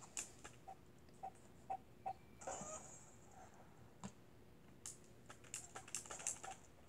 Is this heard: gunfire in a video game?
no